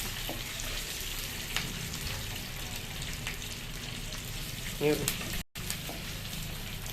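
Onions and green chilies frying in oil in a pan: a steady broadband sizzle holds throughout, with a brief stir clatter near the end and a short dropout.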